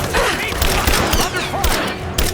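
Rapid bursts of gunfire in Rise of the Tomb Raider, loud overlapping shots and a fusillade filling the scene, with a shouted voice mixed in.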